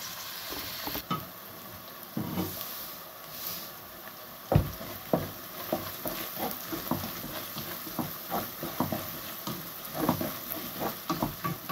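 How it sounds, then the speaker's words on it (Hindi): Onions sizzle and crackle in hot ghee that was just used to fry chicken, a steady close frying hiss broken by irregular pops and stirring scrapes, with no talking. "उसी घी में मैं अब फ्राई करूंगी प्याज को, जिसमें मैंने ये चिकन फ्राई किया है।"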